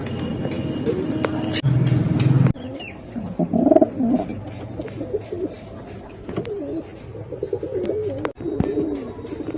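Pigeon with a leg ring cooing softly in low throaty bursts nearby, mixed with rustling, handling noises and brief background voices.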